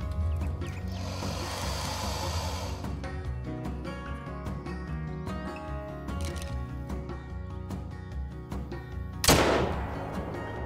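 One sharp hunting-rifle shot in Call of the Wild cracks loudly near the end, set against a busy backdrop of ambient game sounds and music.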